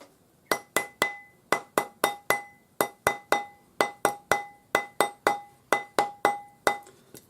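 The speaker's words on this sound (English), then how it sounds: "round it up with your rawhide hammer" Steady series of about twenty sharp taps from a rawhide mallet on a sterling silver ring on a mandrel, each with a short bright metallic ring, at an even rhythm close by with nothing else audible.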